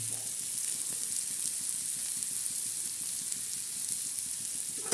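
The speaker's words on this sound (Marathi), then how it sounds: "अशी चांगली परतून टाकून कांद्याची चटणी" Onion chutney sautéing in a pan, made with shrimp and onion, gives a steady, even sizzle that holds throughout without a break, fairly close and moderately loud.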